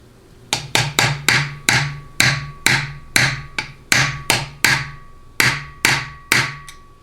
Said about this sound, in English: I'll go ahead and move to the punch and the hammer